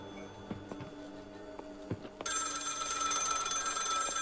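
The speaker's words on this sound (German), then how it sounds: "Dann lässt sie erstmal das Telefon klingeln" A telephone rings inside the horror video game Maid of Sker, a loud continuous bell-like ring that starts abruptly partway through and carries on steadily to the end after a few quiet ticks and clicks.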